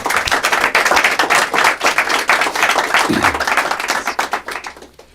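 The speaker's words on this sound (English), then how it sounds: "Big round of applause for Marcia Fudge" A large audience at a public health school event applauds Marcia Fudge, dense, sustained clapping that fills the room and then tapers off near the end.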